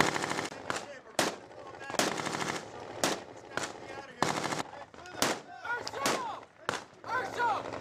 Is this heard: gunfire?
yes